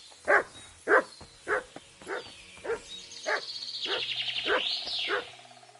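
Mutt the dog in Kingdom Come: Deliverance 2 gives a steady run of about nine loud, close barks, evenly spaced, while bird chirps and a warbling call rise behind the last few.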